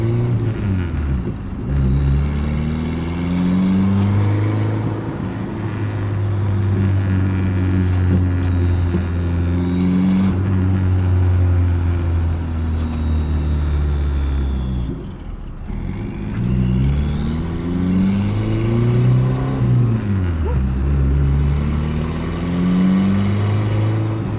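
A Nissan 240SX with a KA24DET engine on a test drive revs up through gears, pitch climbing and dropping in repeated pulls over a steady low drone from inside the car.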